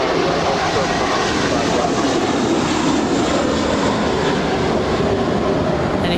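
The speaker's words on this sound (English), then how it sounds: "And here's JetBlue 1524 to JFK. It's a 7-year-old A321." A seven-year-old JetBlue Airbus A321 bound for JFK roars down the runway at LAX on takeoff, a loud, steady broadband jet-engine rumble and whoosh that holds throughout.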